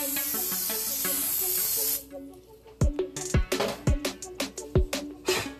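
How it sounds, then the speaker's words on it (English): A close aerosol can of canola cooking spray hisses loudly onto a pan for about two seconds, then stops, followed by several sharp knocks and clatters of cookware. "Now is that I got the canola spray. I'm about to spray the pan."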